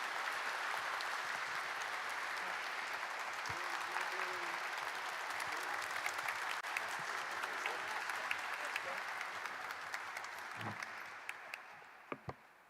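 Sustained applause from an employee audience at a corporate talk event as a chairman is welcomed on stage, a dense even wash of many hands held steady for about twelve seconds before tapering off near the end.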